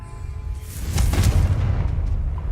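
A Confringo blasting spell exploding in the video game Hogwarts Legacy, a loud, rumbling boom with a crackling burst that swells and then fades into a low rolling tail.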